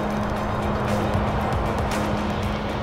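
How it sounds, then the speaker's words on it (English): A jet aircraft slowing on the runway with thrust reversers deployed and brakes applied gives off a loud, steady broadband roar with rushing, gusty surges, heard close and unbroken throughout. "The pilot stops the aircraft, setting the thrust levers to idle, then extending the thrust reversers and braking."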